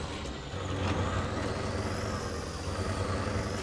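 A Cateye 6x6 truck in SnowRunner lets off its handbrake with a steady air-brake hiss over a constant engine drone and a faint high whine, all moderately loud with no voices.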